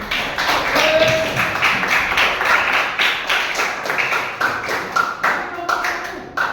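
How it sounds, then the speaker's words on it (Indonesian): A classroom of students claps hands together in a lively burst of applause that runs throughout, with scattered taps and voices mixed in. "tepuk tangan untuk kalian semuanya"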